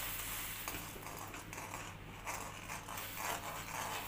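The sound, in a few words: mixing rice flour into boiling milk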